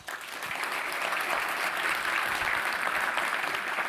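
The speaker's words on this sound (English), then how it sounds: "please join me in giving her a big round of applause" Steady applause from an online-engagement event audience, a dense even wash of many clapping hands holding at full strength for about four seconds with no voices over it.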